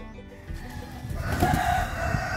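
A Black Australorp rooster in a breeding pen crows once at moderate distance, the call rising partway through amid low barnyard rustling and background noise, with no talk.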